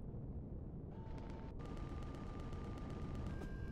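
Automated turret gunfire on a spaceship in Empyrion Galactic Survival: a rapid, steady train of distant, fairly faint shots over low engine rumble, with a sustained electronic tone rising in pitch in steps.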